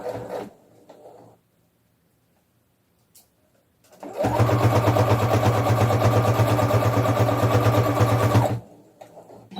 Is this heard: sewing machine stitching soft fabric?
yes